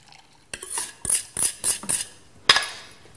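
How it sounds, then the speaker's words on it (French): A spatula scrapes and stirs custard cream (crème anglaise) in a saucepan, giving a series of close, distinct scraping strokes in a steady figure-eight rhythm with a sharper clink near the end; no talking. "toujours avec une spatule, jamais avec un fouet, on va mélanger en faisant un 8 comme ça dans la casserole"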